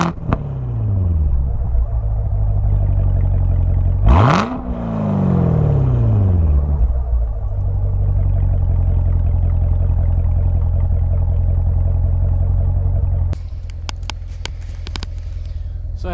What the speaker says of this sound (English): Exhaust valve set to track.